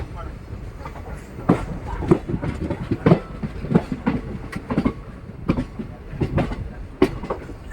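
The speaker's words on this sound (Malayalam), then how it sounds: "സൂറത്തുകൽ റെയിൽവേ സ്റ്റേഷനിൽ നിന്ന് വിട്ടിട്ടും ട്രെയിൻ വീണ്ടും പഴയ വന്ന് വന്നുകൊണ്ടിരുന്ന ട്രാക്കിലേക്ക് തന്നെ മാറി കയറുന്നു" A train crosses points as it switches back onto its original track after leaving Surathkal railway station, with repeated clickety-clack wheel knocks over a steady rumble of rolling cars.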